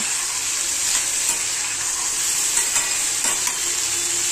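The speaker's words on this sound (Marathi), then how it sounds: "तर हे वांग असं तेलामध्ये चांगलं परतून घ्यायचं" Eggplant fries in hot oil in a pan, a constant bright sizzle with occasional soft scrapes of stirring, close and steady with no talking.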